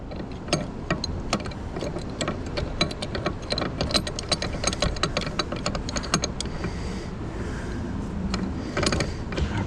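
Ford wrench working on a Ford F350 7.3 turbo diesel truck during an air conditioner repair, giving a dense run of sharp metallic clicks and ticks close by, with no talk.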